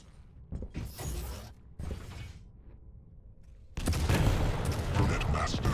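Rocket launcher fire and explosions in a Quake Champions duel match, sharp bursts and clanking mechanisms in separate hits, ending in a loud sustained blast.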